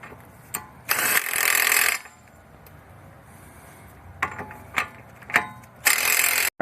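Ratchet driving a bolt home on a Hyundai Sonata driver-side CV axle replacement, heard as several short bursts of rapid clicking, a long two-second run near the start and another at the end, with quieter single clicks between.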